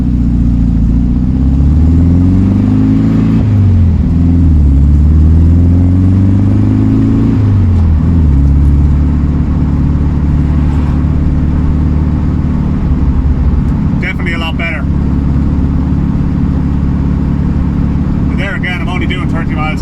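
A small 1967 VW Beetle engine drones steadily while driving at about 30 mph, pitch rising and falling through gear changes, with a person talking over the continuous motor noise.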